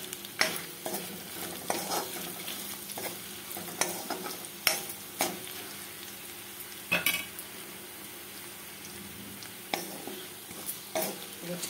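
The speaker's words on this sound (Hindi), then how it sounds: "अच्छे से इसको मिक्स कर लेंगे।" Bathua dal is stirred with chili flakes and garam masala in a pan, a spoon scraping and tapping in irregular bursts over a soft, constant sizzle.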